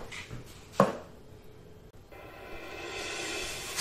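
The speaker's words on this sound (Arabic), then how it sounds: "نزيدو مع البصلة نفس الطريقة بحال الثومة، تقطعو صغير على الطريقة." Onion being chopped finely with a knife on a board, a few faint taps followed by a sharp knock and a soft rising hiss in the background.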